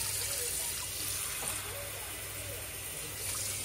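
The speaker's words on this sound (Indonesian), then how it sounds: "Mari kita tambahkan airnya." Water is poured into a cooking pot of chicken for a gulai curry in a home kitchen, a steady, moderately loud gush of liquid that flows without a break for several seconds.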